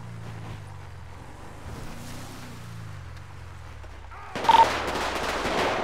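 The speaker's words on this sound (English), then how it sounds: "Shots fired." Gunfire in GTA 5 erupts suddenly near the end as a sharp, loud burst of shots on a beach, after a stretch of low engine and water-like rumble.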